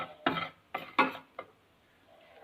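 A spoon scrapes and clinks through podi gunpowder spice mix in a pan, four short separate strokes, fairly faint, with quiet gaps between them.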